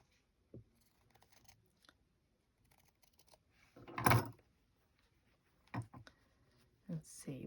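Scissors snip through paper leaves in a few short, separate cuts, with quiet handling noises between them and one louder rustling burst partway through.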